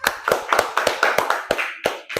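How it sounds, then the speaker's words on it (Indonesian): A classroom group claps for group A, a quick burst of roughly a dozen sharp, close hand claps in an uneven rhythm with no talking. "Tepuk tangan buat kelompok A."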